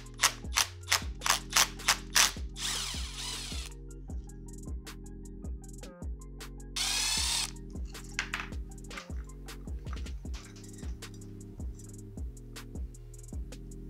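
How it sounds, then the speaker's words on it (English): Impact gun rattling loose the clutch nut on a 33-year-old Honda 250R engine, several sharp hammering bursts in quick succession over a steady low hum, with short pauses and two longer bright hissing air bursts in between. "It's gonna go real easy with this impact gun."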